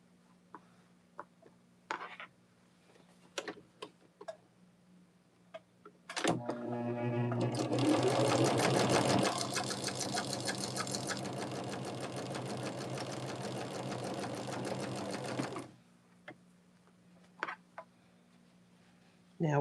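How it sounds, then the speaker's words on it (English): A sewing machine chain-stitching pieces of fabric for a table runner runs steadily for about nine seconds, close and loud, with a fast even mechanical hum. Scattered handling clicks come before and after it. "taking it to our machine, and then in this case, I'm just chain stitching"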